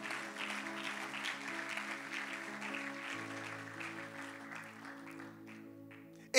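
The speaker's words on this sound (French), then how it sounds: "Acclame pour le Seigneur bien-aimé." A church congregation applauds with steady, moderately faint clapping under sustained organ or keyboard chords, the clapping thinning out toward the end.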